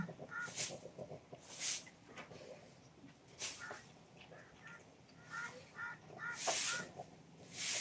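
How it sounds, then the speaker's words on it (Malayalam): Crows caw repeatedly, several harsh calls in bursts spaced a second or two apart, fairly close, over a faint background murmur. "ഇവിടെ കാക്ക കിടന്ന് കരയുന്നു"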